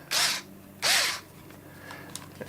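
A power drill whirs in two loud, separate bursts while working on an ARRMA Kraton/Outcast 4S RC truck part, with quieter clicks and handling noises between them.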